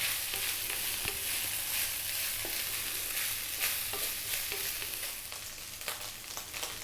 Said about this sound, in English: That's your rice frying there, beautiful.